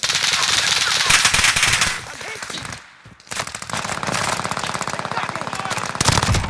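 Rapid automatic gunfire in an online video game fight, loud, sustained bursts with a brief pause mid-way before firing resumes.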